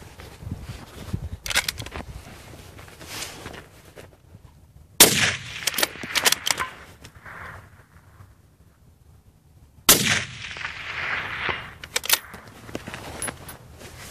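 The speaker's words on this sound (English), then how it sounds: "I'll go ahead and put 2 rounds on target here for you." Two rifle shots fired from a bipod at a distant target, each a loud sharp crack with a long rolling echo, spaced about five seconds apart amid faint outdoor background noise.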